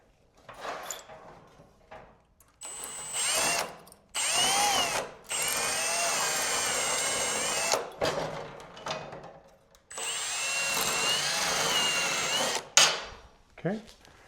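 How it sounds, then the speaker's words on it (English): A drill bit bores through thin aluminum composite panel on a rooftop tent, in several loud, sustained bursts with whining tonal bands separated by short pauses and handling noise; someone talks between the bursts. "So this drill bit's pretty much just going to shred this in here."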